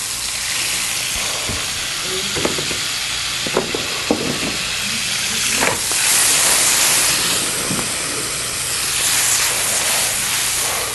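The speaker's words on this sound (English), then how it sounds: "Go ahead and add just a little bit of water to this sauce." Tomato sauce for ravioli caprese sizzles and hisses in the pan after a splash of water goes in, a steady close steamy frying noise with a few soft clinks and stirring knocks.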